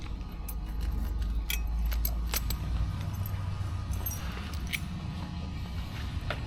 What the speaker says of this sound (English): Let me go ahead and grab the keys